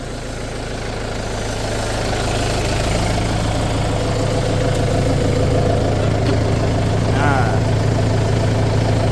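Steady low diesel engine drone from an M8540 tractor ploughing an orchard, heard from the driver's seat, holding a constant loud hum throughout with a faint higher whine near the end.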